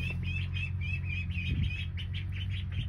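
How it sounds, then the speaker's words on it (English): Baby ducks peeping close by in a rapid, continuous run of high chirps over a low background hum. "Excuse the baby ducks."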